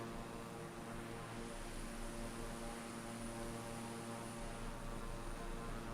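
Embraer E121 airplane engine in a flight video game, a steady droning hum with constant tonal whine, even and unbroken, heard alone at moderate level.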